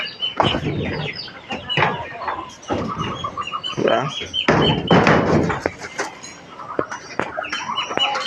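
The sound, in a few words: Muscovy ducklings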